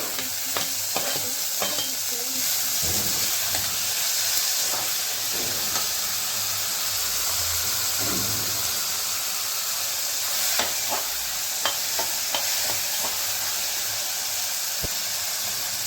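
Eggplant frying in a pan for homemade badanekayi bartha makes a steady, close sizzle throughout, with scattered scraping and clicking stirring strokes.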